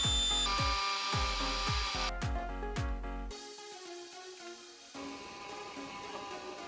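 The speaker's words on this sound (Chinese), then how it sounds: "最后我尝试使用 CS Pro 雕刻了厂商附赠的 demo 文件。" An ATOMSTACK C4PRO desktop CNC engraver carves a demo file, giving a repeated series of sharp, loud cutting bursts with a steady motor whine, then a quieter, rougher grinding passage.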